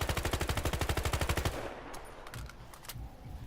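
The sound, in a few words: M16A3 gunfire in the video game Battlefield Heroes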